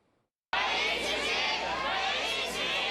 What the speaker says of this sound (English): A crowd of hundreds shouts in rage outside the Taipei District Court.